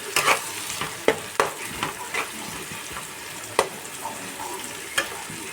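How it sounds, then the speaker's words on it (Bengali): Salted ingredients for an egg pasta dish sizzle lightly in a pan while a spatula stirs, giving a soft, steady fry punctuated by a few sharp scraping knocks. Close, with no talking. "আমি কিন্তু খুব কড়া করেও ভাজবো না"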